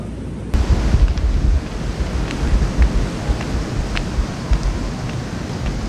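Steady rumbling wind buffets the microphone over a wash of surf at Myrtle Beach, South Carolina, loud and continuous, with no voices.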